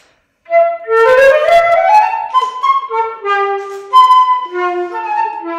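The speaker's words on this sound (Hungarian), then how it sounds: "Most pedig kérem, hallgassák meg Johann Sebastian Bach Ámbor partitájának következő" Live solo performance of a movement from a Bach partita at a baroque painting exhibition opening, a single melodic line of clear sustained notes played close and alone.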